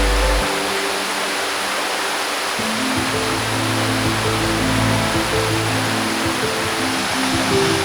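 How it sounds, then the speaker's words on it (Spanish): Boeza river rushing among stones through oak, holly, yew and alder woodland, a loud continuous broadband wash of flowing water, steady and close throughout with faint low tones underneath. "El sonido envolvente del río es música para nuestros oídos"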